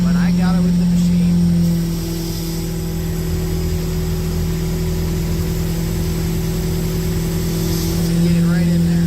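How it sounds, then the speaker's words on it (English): Concrete floor grinder running in a garage with a shop vac hooked up to it, a steady droning motor hum with a constant pitch that holds loud and unbroken throughout. "I got the shop vac hooked up to the grinder. This is the grinder."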